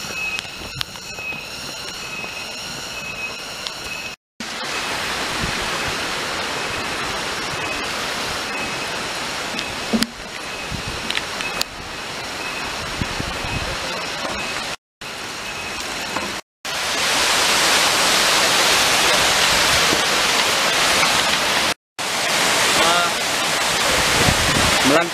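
Munduk waterfall in Bali roars as a steady, dense rush of falling water, loud and close, broken by a few brief cuts and swelling louder toward the end.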